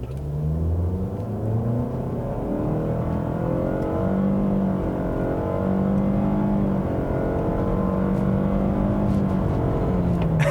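2018 Nissan Rogue Sport accelerating at full throttle with traction control off, its engine drone rising and falling in pitch through simulated gear shifts, heard steadily from inside the cabin.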